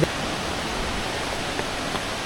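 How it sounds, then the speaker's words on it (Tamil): Fast-flowing waterfall at Kolli Hills, a steady, dense rush of falling water close by, unbroken and loud with no voices over it. "தண்ணி செம்ம ஃபாஸ்ட்டாக வருது"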